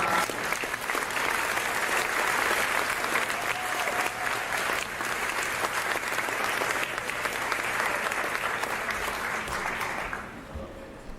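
An audience gives steady, dense applause to welcome a speaker, filling about ten seconds before tapering off at the end.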